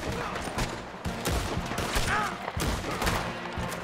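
Gunfire in Red Dead Redemption 2, rapid overlapping shots from several guns crackling in a dense fusillade, sometimes near and sometimes farther off, with brief shouting voices in between.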